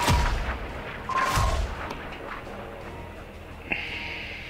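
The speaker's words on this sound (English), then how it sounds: "Right, here goes another rocket." A rocket fires and explodes in Call of Duty with a heavy booming launch and blast, a second deep thud after a second, then rumbling decay and a sharp metallic crack near the end.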